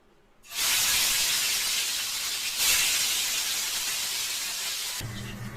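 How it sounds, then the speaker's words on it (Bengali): Fish coated in turmeric goes into hot mustard oil, a loud, steady broadband hiss of frying that starts abruptly, swells briefly midway and cuts off near the end. "এইভাবে আমি সব মাছগুলো ভেজে নেবো।"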